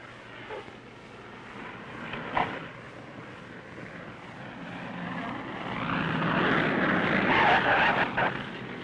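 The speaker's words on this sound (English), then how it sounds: "the planes start streaming in from the lower 48" Propeller airplanes arriving in Anchorage after the 1964 Alaska earthquake drone steadily in a muffled, grainy recording, the engine noise swelling louder toward the end with a brief thump near the start.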